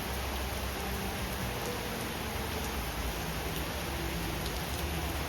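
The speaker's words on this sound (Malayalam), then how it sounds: "നാട്ടിലെ മഴയ്ക്ക് വേറൊരു ഫീലാണല്ലോ" Rain falls steadily at a new family house in Kerala, a soft, even, fairly faint patter and hiss continuing without pause.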